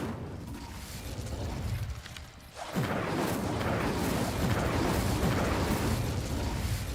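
A fire spell cast in the video game Hogwarts Legacy erupts into a loud, sustained roaring whoosh after a brief lull, with a rumbling burst that stays dense and steady to the end.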